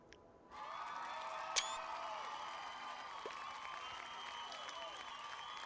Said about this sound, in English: you smile up at Tomas, who receives a thunderous applause